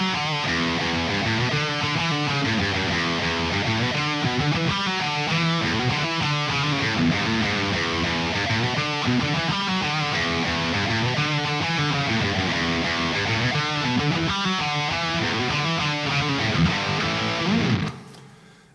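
A distorted electric guitar plays the main riff of a song, a dense, continuous line in E Dorian, clear and upfront for about eighteen seconds before cutting off abruptly.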